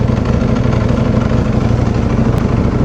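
A Ducati-style V4R motorcycle engine idles after repair, a loud, close, steady low throb with an even pulsing rumble and no talk.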